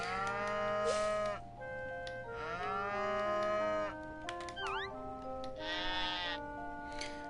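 Farm-game cow from Harvest Moon, several drawn-out moos with game-style bleating calls mixed in, clear and close with short pauses between, no talking.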